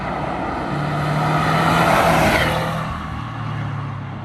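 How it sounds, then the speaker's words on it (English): Inside a Subaru WRX STI on the move, a loud steady roar of tyre and road noise fills the cabin, swelling midway then easing, with a low engine drone underneath. "There's quite a bit of road noise in here"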